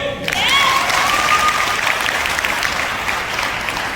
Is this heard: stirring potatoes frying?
no